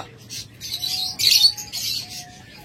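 Pet birds, a DNA-tested double-factor breeding pair kept for sale, chirp and tweet in quick bright calls, close and fairly loud, with no talk.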